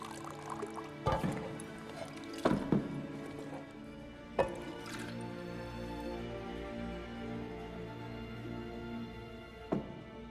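A drink poured into a cup in The Witcher 3 video game, a continuous trickling pour under a soft musical bed, with a few sharp clinks and knocks at intervals and no talk.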